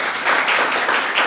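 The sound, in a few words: audience applause at a church wedding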